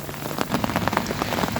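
Rain falls onto a muddy yard at home, with close drips and patters ticking irregularly over a steady hiss. The burst is short and no one speaks.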